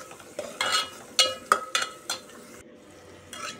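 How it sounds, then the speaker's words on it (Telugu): Onions and green chillies frying in a pan, heard as a soft sizzle broken by several sharp clinks and scrapes of a spoon stirring against the metal, with short pauses between strokes. "ఆనియన్స్, మిర్చి బాగా ఫ్రై చేసేసుకుంటున్నాను ఫ్రెండ్స్"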